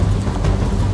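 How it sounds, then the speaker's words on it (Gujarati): Heavy downpour during monsoon rains in the Vadia area of Amreli, Gujarat, a dense, steady roar of rain close by with a low rumbling undertone, loud and continuous without voices. "8 ઇંચ જેટલો વરસાદ ખાબકતા"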